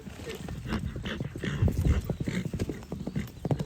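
Horses and a newborn foal move about, their hooves clip-clopping in an uneven run of dull thuds close by, with voices and a dog mixed in.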